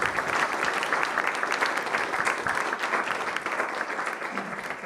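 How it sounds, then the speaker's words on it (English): An audience gives a round of applause for the faculty after a reading and artist talk, with dense, sustained clapping at a steady moderate level for the whole stretch. "Can we have one more round of applause, please, for our outstanding faculty?"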